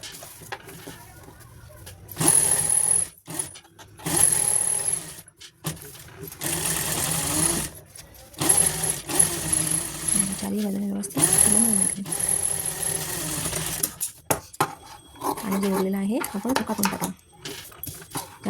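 A sewing machine stitches a purse made from blouse fabric, running in bursts of steady whirring, close and loud, with pauses between runs, while someone talks over it.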